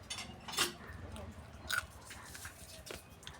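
Someone eats crab curry cooked with bottle gourd in a village kitchen, a few close, quiet bites and soft chewing crunches with faint background noise between them.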